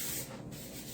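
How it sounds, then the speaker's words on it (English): Cooking spray hisses onto gloves during cookie pie prep, a steady close-up spray burst lasting about a second with a brief dip midway. "One thing I forgot, y'all, was to spray my gloves."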